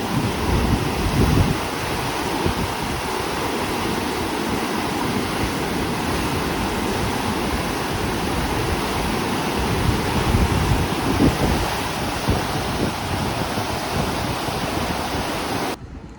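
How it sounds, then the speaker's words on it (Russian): Continuous heavy rushing of water released through a lock on the Mississippi River pours steadily, a loud, even roar with no break for the whole stretch. "Ух ты, сброс воды пошел"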